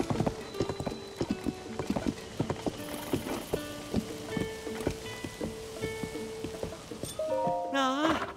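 A horse in the video game Zelda: Tears of the Kingdom clip-clops in a steady rhythmic trot, accompanied by soft game music and chimes, ending with a rising melodic jingle.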